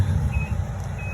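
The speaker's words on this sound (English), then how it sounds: "you'll hear it beeping because it's a voltage indicator" Short high beeps from a handheld voltage indicator close to 15,000-volt lines at an arc flash demonstration, two thin tones over a steady low rumble of nearby machinery.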